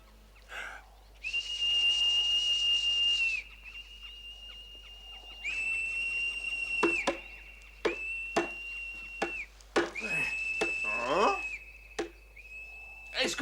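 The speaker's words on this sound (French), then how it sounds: "Je te demande si tu n'entends pas siffler!" In the French-dubbed cartoon David the Gnome, long, steady whistled tones ring out one after another, each held for a second or two, broken by sharp knocking sounds and brief pauses.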